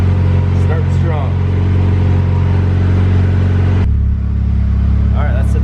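A supercharged Honda Integra engine idles loud and close with a deep, steady rumble, its tone shifting lower partway through, while people talk over it.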